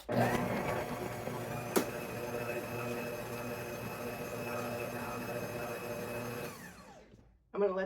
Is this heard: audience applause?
no